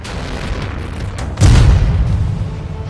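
A deep, heavy boom of a rocket explosion near Tel Aviv, during a Hezbollah rocket barrage, lands about halfway through. It follows a low, rumbling background and leaves a lingering roar.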